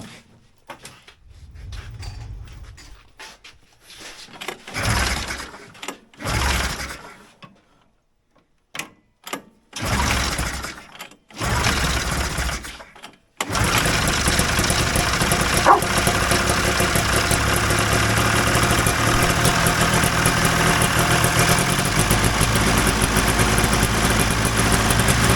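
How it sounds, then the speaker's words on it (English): Vintage Polaris TXL Indy snowmobile engine being cranked in short bursts, then catching and running steadily at a loud, raspy idle for the rest of the clip. "We're firing it up just to get fuel up to the carbs."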